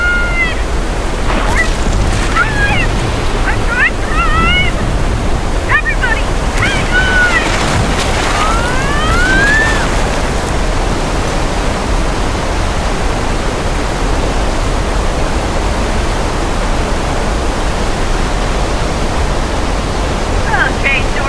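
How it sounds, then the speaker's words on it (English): Heavy, constant rush of simulated rain pumped from recycled water on a Universal Studios set, like a downpour, loud and unbroken, with faint voices and whistling tones early on. "so I apologize for the rain as we"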